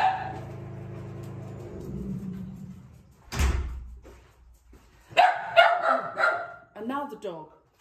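A dog barks in a quick cluster of loud, close yelps, after a low engine drone fades and a door thuds shut.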